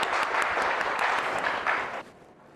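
A classroom of vocational high school students breaks into brief, brisk applause that stops abruptly after about two seconds.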